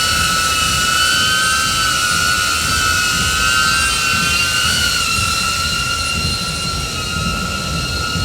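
A DJI Avata drone fitted with HQProp 5-blade propellers flies steadily nearby, giving a continuous loud whine with a sustained high-pitched tonal hum that holds throughout, with no talking.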